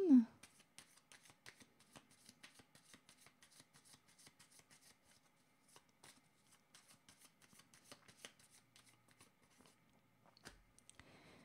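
Tarot cards being shuffled by hand, a steady run of soft papery riffles and flicks close by that continues for about ten seconds, quiet overall after a brief louder sound at the start, with no talking.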